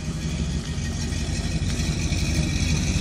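Close and loud, the 408-powered old-school Chevrolet Chevelle engine keeps up a deep, steady, lopey rumble at idle for a few seconds, with nobody speaking over it.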